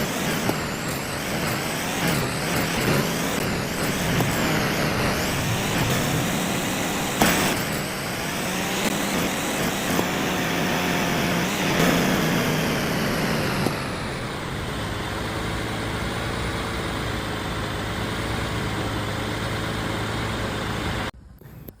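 A truck engine pulling a trailer in a delivery video game, a loud continuous rumble with gear shifts and rising revs, then settling to a steadier lower drone before cutting off abruptly at the end.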